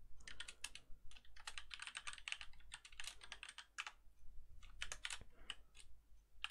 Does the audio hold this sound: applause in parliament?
no